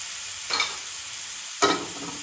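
Grated radish frying in a pan under a steady sizzle, with two distinct stirring scrapes about a second apart, the second louder.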